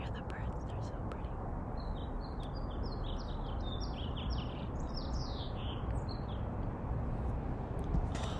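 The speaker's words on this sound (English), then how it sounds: "Oh, you hear the birds. You hear the birds. They're so pretty." Several birds chirp and sing in short, bright phrases against a constant, rushing background noise, fairly faint and somewhat distant.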